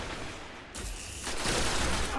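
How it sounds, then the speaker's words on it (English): Fusion rifle in a video game, the Plan C exotic, charges and discharges in a dense, loud roaring blast with layered crackling gunfire continuing throughout, close and without speech. "I'm making people leave because it's my fusion rifle."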